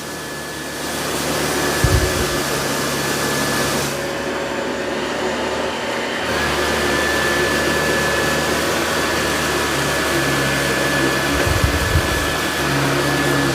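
An iRobot Roomba 675 robot vacuum runs indoors with a loud, continuous whirring hum and a high whine, with brief low bumps as it moves along the floor.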